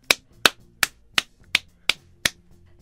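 Hand claps by someone in the background, seven sharp evenly spaced slaps in a steady rhythm, fairly close and crisp, with no talking over them.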